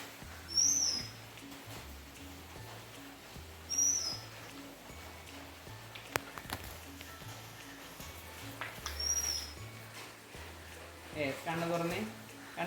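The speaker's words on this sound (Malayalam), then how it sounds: "കാക്കയുടെ സൗണ്ട് കേട്ടു, കിളികളൊക്കെ പറക്കണ ഒച്ച കേട്ടു" Birds calling outdoors: a few brief high chirps spaced several seconds apart, faint and distant, over a low rumbling background with soft rhythmic noise and no clear crow or rooster calls.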